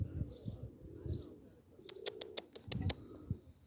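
Pigeons cooing, with low soft coos repeating close by, alongside a brief burst of sharp chirps or wing flutters, faint and with no talking.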